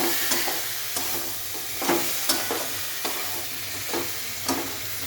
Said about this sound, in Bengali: এবারে আমি এই শাকটাকে দিচ্ছি, লাউ শাকটাকে দিয়ে দিচ্ছি।